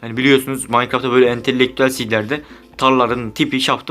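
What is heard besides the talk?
No everyday noise stands out behind the speech.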